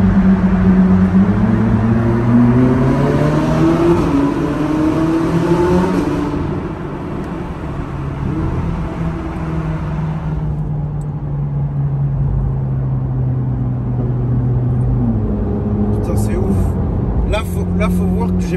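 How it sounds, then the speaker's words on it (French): A Ferrari 458 Italia's naturally aspirated V8 revs to about 6000 rpm, its rising howl sweeping up and then settling into a steady drone and fading, with someone talking over it. "Mais là, à 6000 tours, comment ça gueule déjà, c'est ouf."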